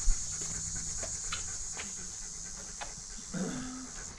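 A German Shepherd dog pants steadily in a park outdoors, with soft rhythmic breaths at close range over a constant high background hiss and a faint whimper near the end.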